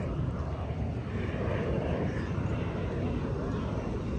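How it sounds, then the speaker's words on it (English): Delta Airbus A321 airliners taxiing at Atlanta airport near sundown, a steady distant jet engine roar with broad rumbling low end, continuous and fairly soft with no voices heard. "There's like two Delta planes taxiing close to each other."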